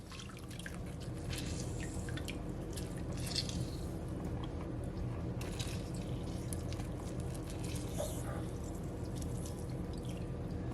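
Half a lemon is squeezed through a strainer into homemade apple juice, giving close, wet squishing and dripping that runs continuously over a steady background hiss, with no talking.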